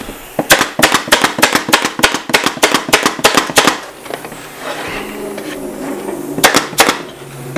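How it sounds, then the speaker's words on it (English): Staple gun driven repeatedly into the edge of an adjustable piano bench, about a dozen rapid sharp snaps in a quick steady run, then a pause with handling rustle, then a few more snaps, all close and loud. "I'm just going to staple down the edge here"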